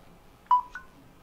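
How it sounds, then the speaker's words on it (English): A cell phone charging from a myCharge Summit 3000 rechargeable power bank gives two short, clear electronic beeps about a quarter second apart, close by in an otherwise quiet room. "you could hear it, the cell phone charging right there"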